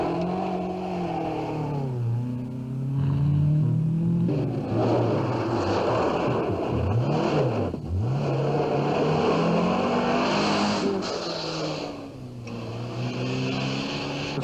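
A Ford Escort rally car with 180 horsepower, on a Circuit of Ireland stage near Killarney around 1968 to 1970, revs loudly and close, with its engine pitch rising and dropping sharply through gear changes.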